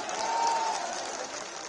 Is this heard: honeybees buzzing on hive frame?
no